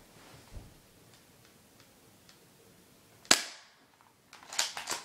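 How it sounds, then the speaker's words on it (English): Two sharp pistol shots fired at a target, the first cracking out after quiet clicks and the second following about a second later, both close and loud with a short decay. "we'll be taking some shots at that to test the accuracy."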